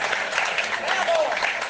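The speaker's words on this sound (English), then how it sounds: "How about one more round of applause for the Leader of the Opposition" Applause from a retiree group in Toronto for the Conservative Party leader, steady and fairly loud with a broad texture throughout, with voices and cheering mixed into the crowd noise.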